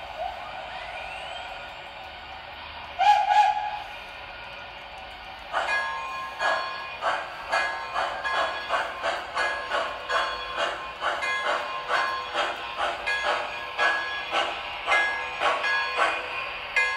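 A model of Walt Disney World Railroad locomotive number 3, the Roger E. Broadway, runs on track with a steady train of rhythmic clicks and puffs after a brief whistle-like tone, fairly near and without talk.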